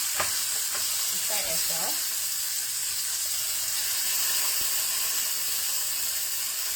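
Salmon sears in a hot pan with a loud, constant sizzling hiss, while a person speaks briefly at the start.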